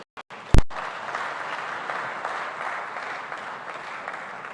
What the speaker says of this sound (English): Give her another round of applause, ladies.